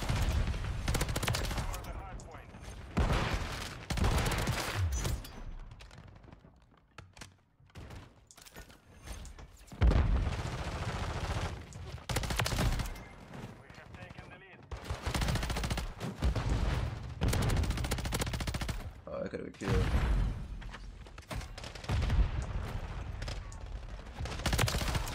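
BP50 assault rifle bursts in Modern Warfare 3, loud rapid automatic fire in repeated strings separated by short lulls, with game effects and some voice underneath.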